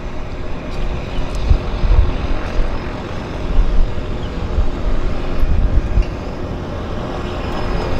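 A Caravan floatplane sets up at Vancouver Harbour, its propeller engine droning steadily from a distance across the water, with the rumble swelling and easing slightly.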